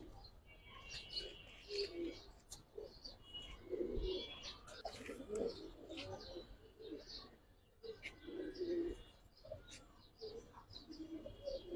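Pigeons, including coloured Giribaz and other pigeon breeds kept for sale, coo softly and repeatedly nearby with scattered chirps. The bird sounds come in overlapping waves at moderate volume, with faint background activity.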